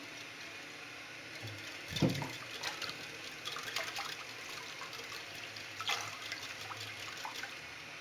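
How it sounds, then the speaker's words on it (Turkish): Water poured over stuffed peppers in a pot, a quiet steady trickle and splash with a brief louder splash early on and softer pouring afterward, close by. "Üzerini taşmayacak şekilde şöyle biberlerimin üzerinden gezdirerek suyunu veriyorum."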